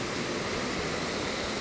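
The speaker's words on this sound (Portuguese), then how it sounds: "E ali tá a Cachoeira das Antas." Cachoeira das Antas, a waterfall in Visconde de Mauá, roars as a steady, dense rush of falling water, loud and continuous with no voices over it.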